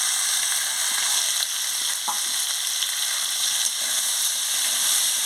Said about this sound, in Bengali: টমাটো কুচি সব রকম দিয়ে ভালো করে ভেজে নিচ্ছি।